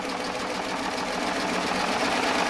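A Baby Lock Triumph serger stitches fabric with a fast, even mechanical whir and rapid needle chatter, close up and steady throughout the short stretch.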